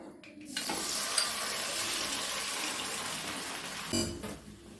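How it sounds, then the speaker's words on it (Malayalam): Pumpkin pieces dropped into hot ghee in a pan for a pumpkin and lentil payasam, starting a steady loud sizzle with stirring scrapes that runs throughout, ending in a brief clatter. "അതിലേക്ക് നമുക്ക് ഈ മത്തങ്ങ ഇട്ട് കൊടുക്കാം"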